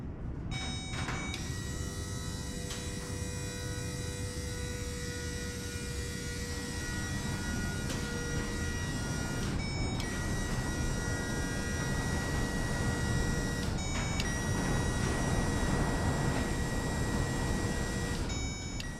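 Electric fuel pump on a 1984 Jeep CJ7 restomod with a fuel-injected 4.0 L swap, energized by a power probe, gives a steady droning whine with a few brief cutouts, close and continuous.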